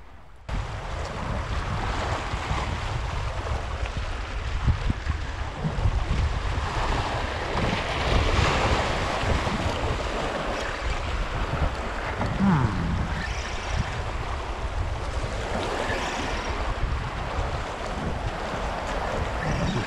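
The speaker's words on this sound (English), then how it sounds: "definitely a little breezy and choppy" Breezy wind and choppy sea waves roll onto a beach near rocks, a steady broadband wash of surf and gusting wind noise across the microphone, with no talk.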